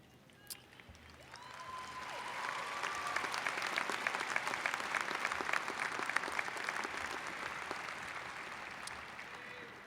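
An audience at a university commencement ceremony breaks into applause that swells after a couple of seconds into sustained, even clapping from a large crowd heard from a distance.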